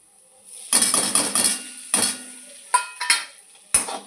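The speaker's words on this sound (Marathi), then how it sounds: "तर आता मी टाकते डेंगरी" Vegetables tumble into a metal pan of peanut and chili mix frying in oil, followed by several sharp scraping and clanking strikes of a spoon against the pan, close and fairly loud.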